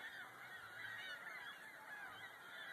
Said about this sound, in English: Here comes a ginormous flock.